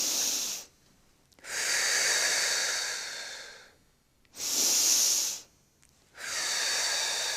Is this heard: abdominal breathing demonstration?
yes